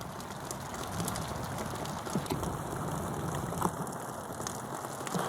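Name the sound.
heavy rain falling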